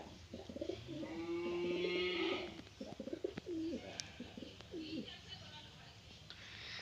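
Pet pigeons at home coo in a low, rolling rhythm, loudest early on, while voices murmur softly in the background.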